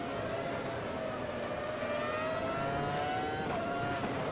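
Race car engines in the Automobilista racing game whine at high pitch, a steady, fairly faint drone with revs climbing slowly and one sharp gear-change dip, with several cars audible together.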